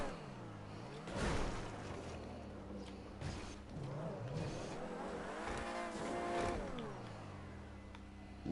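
Engine of a car in GTA 5 Online revving and accelerating, with rising and falling harmonic sweeps, a brief tire squeal, and steady drone throughout, loud and close.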